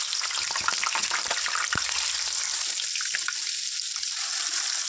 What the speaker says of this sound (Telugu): కొద్దిగా ఆయిల్ వేసుకొని ఆయిల్ హీట్ అయ్యాక పీసులు ఫ్రై చేసుకుందాం